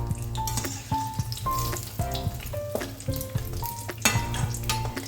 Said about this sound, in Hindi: एक बारी में 2 से 3 पॉकेट्स ही स्लो गैस पे फ्राई करिएगा।